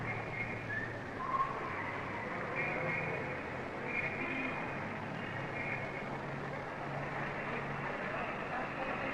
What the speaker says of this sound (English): Malaga is like any city with its noise and traffic and people and buildings.